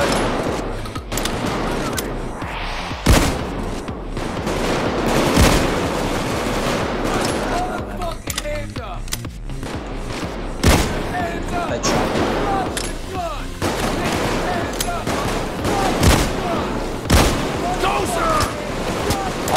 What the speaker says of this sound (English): I will use a shotgun.